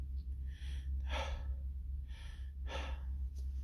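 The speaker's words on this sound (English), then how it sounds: "He's breathing heavily." Heavy breathing sounds in repeated loud, rough breaths, close and clear over a steady low hum, with no talking.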